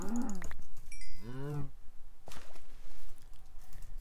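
Minecraft cows give several close, drawn-out moos, two in quick succession and then fainter lowing, over a steady game background with soft footstep-like taps.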